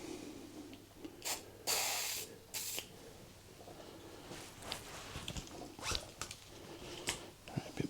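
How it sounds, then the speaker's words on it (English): Several short hissing bursts from an aerosol lubricant can on a Royal Enfield Classic 350's bent steering, one longer spray near the start, followed by quiet scraping and tapping nearby. "Try a bit of spray"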